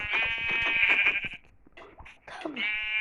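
A Minecraft sheep bleats loudly and repeatedly at close range, long wavering cries with brief gaps, the last call rising again at the end.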